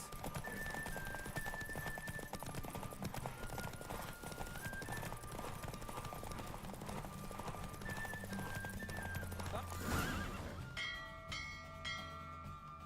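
Rhythmic hoofbeats of a galloping horse with an occasional neigh in The Witcher 3: Wild Hunt, layered over steady game music and ringing bells, ending in a brighter chime flourish.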